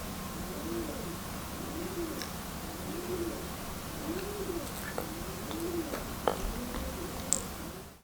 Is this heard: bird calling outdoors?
yes